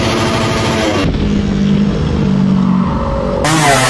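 A Suzuki Raider 150 underbone motorcycle revs loudly up close, its engine note holding a sustained roar with a brief dip and a sharp rise again near the end.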